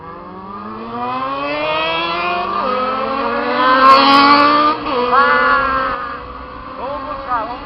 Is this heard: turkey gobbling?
no